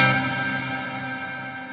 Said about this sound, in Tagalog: Ang main function ng reverb is to emulate a room of different sizes.